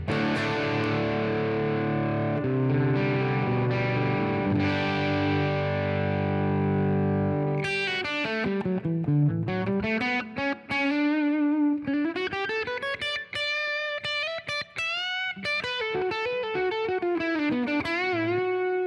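Distorted electric guitar through a Marshall ST20H amp, played loud and close: sustained chords ring out first, then a busy run of single-note phrases with heavy gain and ringing overtones.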